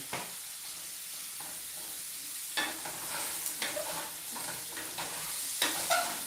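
Onion frying in an oiled pan gives a steady, moderate sizzle, with scraping stirs and small clatters growing more frequent toward the end.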